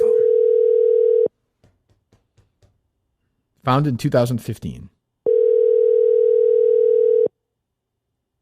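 A telephone ringback tone sounds while a business is being called: two long, steady tone bursts, one at the start and one near the end. Between them come faint clicks and a short burst of speech.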